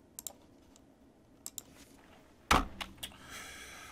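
Sparse, quiet keystrokes on a computer keyboard in a still room, a few scattered clicks followed by a louder cluster of taps, close and faint with no speech.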